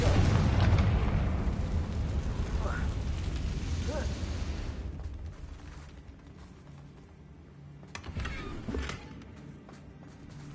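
Confringo fire spell explosion in Hogwarts Legacy on PS5: a loud, rumbling burst that gradually fades over several seconds, followed by scattered quieter pops and crackles, alone without talk.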